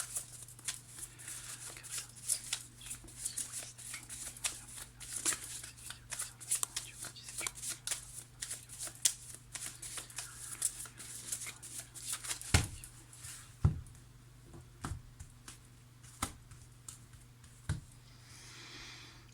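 Tarot cards are riffled and shuffled by hand for a general reading, giving a steady stream of close, soft flicking and snapping with occasional sharper card slaps, and no talking over it.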